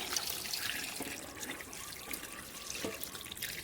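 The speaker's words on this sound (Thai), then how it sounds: "แล้วก็เทน้ำที่เราผสมนะครับลงไปเลย" Mixed water is poured into a pot of carp for a salty fish stew, a soft, steady trickling and splashing that runs throughout at low volume.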